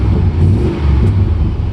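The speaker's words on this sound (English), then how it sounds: "Got a throaty little sound to the exhaust" A 1996 Chevy C1500 Silverado pickup with an aftermarket stainless exhaust revs nearby, a loud, throaty low rumble that swells and dips steadily.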